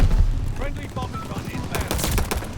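Rapid pistol shots crack in a Call of Duty: Vanguard match, a dense run of sharp reports near the end over busy game sounds and background noise.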